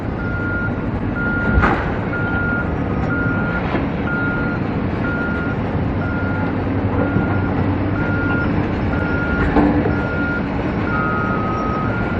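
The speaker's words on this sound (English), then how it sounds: "Start filling up this dump truck here." Dump truck backing up at a stadium construction site where an excavator loads it, its steady evenly spaced reversing beeps repeating throughout over a constant rumble of heavy machinery.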